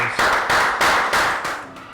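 A class gives a round of applause, a short loud series of claps in a brisk rhythm, close and distinct, ending after a couple of seconds.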